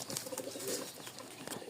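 Faint soft cooing from pigeons kept for breeding, a quiet bird call or two heard at a distance in a dim room with low background noise.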